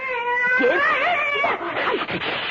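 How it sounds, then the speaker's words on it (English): Cat meowing in a 1974 CBS Radio Mystery Theater drama: a drawn-out, wavering yowl that rises and falls, followed by shorter grumbling mews, close and loud. "So, I think you'd better get down. Come on, Cat. Get down. Get off my chair."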